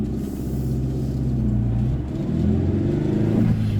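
A 2020 Great Wall Steed twin cab ute with a 2.4L petrol engine and 5-speed manual gearbox pulls away from a stop, its engine note droning loud and close and rising steadily as it accelerates.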